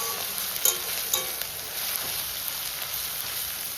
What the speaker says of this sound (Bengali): রসুনটাকেও ভালো করে ভাজা ভাজা করে নেব।